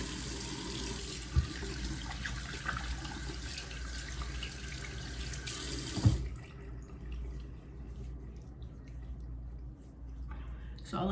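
Water runs steadily from a bathroom sink tap during face washing, a soft continuous hiss with a few splashes, then stops and leaves quieter dripping and faint handling sounds.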